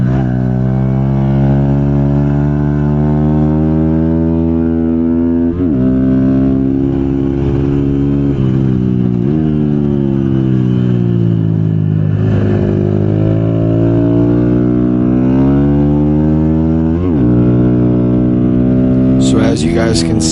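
A Honda GROM motorcycle engine screams loud and close for the whole stretch during a six-hour endurance race, its pitch rising steadily through the gears with sharp dips at each shift before climbing again, while a voice talks over it.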